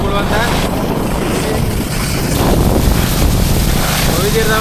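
A boat engine drones at sea in South Korea while strong wind roars across the microphone, loud and continuous, with faint water wash beneath and no clear talk.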